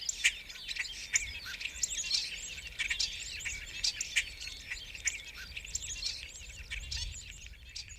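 Birds chirp and tweet steadily around an old, solitary mustang stallion, with quick overlapping calls throughout and no talking.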